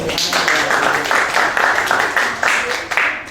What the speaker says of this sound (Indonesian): Keren loh, kece tepuk tangan dong